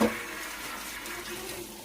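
Food is rinsed under a running kitchen tap while cooking, a close, steady splashing stream of water that stays fairly soft throughout the short moment.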